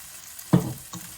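Sauce poured into a hot pan, a sudden sizzling burst that flares loudly then fades, followed by a smaller second splash of hissing.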